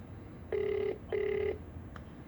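A telephone rings twice in a steady electronic double burst, clear and moderately near in a quiet room.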